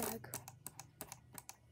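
An office mouse and a gaming mouse make fast drag clicks, a run of sharp, close, evenly spaced clicks over a low steady hum, with no talking.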